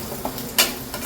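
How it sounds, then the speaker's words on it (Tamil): Onions sautéing in a pan, a soft continuous sizzle broken by a couple of quick spatula scrapes, one sharper stir standing out, close and moderately quiet. "நல்லா வதக்கணும்."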